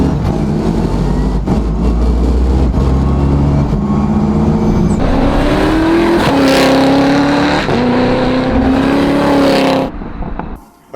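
A custom car accelerates hard through the first gears, its engine note loud and close, climbing in pitch with each gear before cutting off abruptly at the end.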